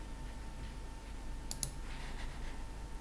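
A pair of quick, faint computer mouse clicks near the middle, set against a steady hum of room noise while working in Marvelous Designer.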